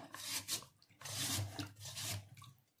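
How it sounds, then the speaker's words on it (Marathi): Potatoes grated by hand into long strips over a bowl of water, giving three bursts of rough, rasping strokes, each lasting about half a second to a second, fairly close and moderately loud with no talking. "आपण बाउलमध्येच हा बटाटा इथे लांब आकारामध्ये आपल्याला असे किसून घ्यायचे बघा"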